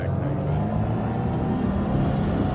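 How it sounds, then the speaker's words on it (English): Engine of a spaceship in a video game, a low steady rumbling drone that holds at an even level throughout, with a voice partly audible over it. "Thinking the engine I heard was an NPC ship"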